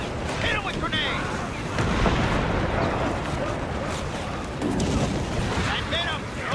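Continuous battlefield din in Company of Heroes 3, a World War II strategy game: rumbling explosions from grenades and artillery swell and fade over dense crackling noise, with bursts of impact around two and five seconds.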